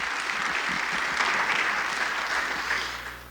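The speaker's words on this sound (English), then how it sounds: "I was going to say one more round of applause for Mr." A summit audience gives a round of applause for woodworker Tom Bodett at a trade skills event. Dense, steady clapping fills the room and tapers slightly at the end over a low hum.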